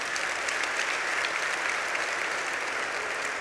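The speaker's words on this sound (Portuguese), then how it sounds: "Você pode dar uma salva de palmas para Jesus bem forte?" Loud, steady clapping from a church congregation applauding during a sermon, dense and continuous across the clip with no talking.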